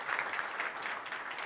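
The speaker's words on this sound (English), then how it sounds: "Please give him a round of big applause here" Audience applause at a Microsoft Build tech conference session, a steady dense patter of many hands clapping at moderate level, continuous and without voices over it.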